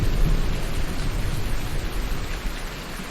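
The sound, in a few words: rain in Farming Simulator 19 video game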